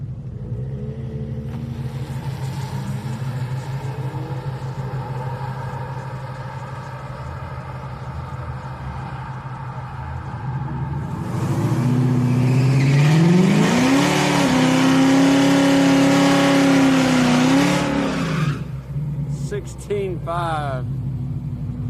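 Volkswagen street car drag racing at Houston Raceway Park on a Friday street night, a distant engine drone that swells into a loud, rising acceleration roar mid-clip, then fades, with commentary talk heard over it.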